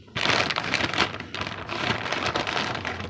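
Steady rain falls on a cold, wet day in a loud, close, continuous hiss of drops hitting surfaces, with no voices.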